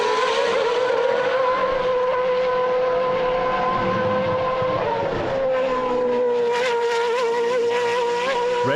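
An FA1 Formula Acceleration single-seater race car at Portimao circuit in Portugal screams past at full throttle, a loud sustained high-pitched engine note that dips and shifts as it brakes and accelerates through the corners.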